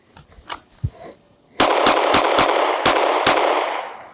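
Rapid pistol shots come from a handgun fitted with a red dot sight on a shooting range: a few faint knocks, then six loud, sharp cracks in a quick, slightly uneven string.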